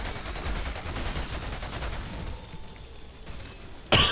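In a video game, a Technomancer's deployed turret fires steady rapid bursts, a dense rattling stream that fades somewhat before a sudden loud crack at the end.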